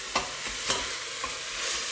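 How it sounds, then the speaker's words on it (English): Steady sizzling of onions and bacon frying in a hot pan, with a few soft scraping stirs scattered through the hiss. "The onions are frying with the bacon."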